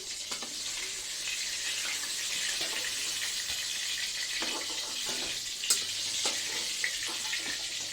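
Pieces of catla fish frying lightly in oil, a steady soft sizzle with small pops and scattered clinks, faint and close, no voices.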